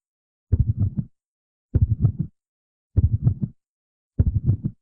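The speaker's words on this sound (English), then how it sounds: "That right there is a heartbeat." Heartbeat heard just before Springtrap attacks in the video game FNAF 6: four evenly spaced clusters of deep, muffled thumps, loud and close against silence.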